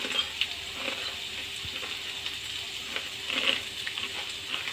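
Bori, dried lentil dumplings, frying in a pan of oil, a soft continuous sizzle with a few faint crackles and light stirring, no voices.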